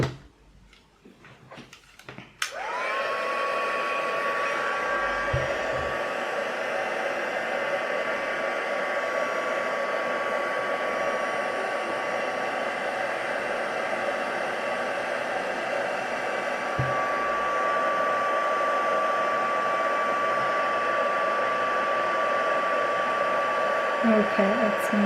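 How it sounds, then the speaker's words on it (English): A cardmaking heat tool switched on to melt embossing powder, a steady loud whirring blower with a constant high whine that starts abruptly after a few faint handling sounds and runs unbroken to the end. "So where is my heat tool?"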